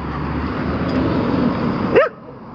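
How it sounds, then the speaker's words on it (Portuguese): Small dogs barking in a city, a short yelp-like bark rising near the end over a steady background of traffic noise, fairly close. "Os cachorrinhos aí."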